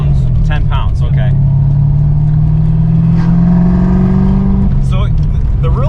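A supercharged Ford Foxbody Mustang engine running at 10 pounds of boost, a loud steady low rumble that swells into a rev near the middle, with a voice talking over it.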